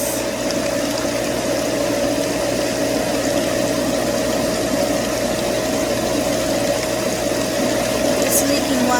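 A leaking pool pump runs beside a salt chlorinator, giving a steady, close motor hum with a constant tonal whine and broadband rush, unchanging over several seconds while a person talks.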